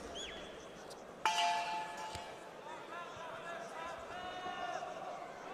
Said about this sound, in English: just before the bell to conclude round number 2